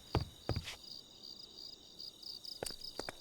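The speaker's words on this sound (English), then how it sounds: "Like listen to the crickets." Crickets chirping in a video game woods map, a steady high pulsing trill close by, broken by a few soft thuds, with no talk.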